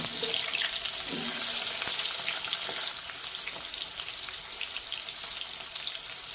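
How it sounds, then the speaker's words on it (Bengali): Pieces of three medium potatoes fry in oil with a steady bright sizzle, a few clinks of a spatula early on, then the crackle settles slightly quieter and continues. "এবার তেলে 3টে মাঝারি সাইজের আলু টুকরো করে কেটে নিয়েছি, ভেজে নেব।"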